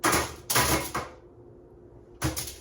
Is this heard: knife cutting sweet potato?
yes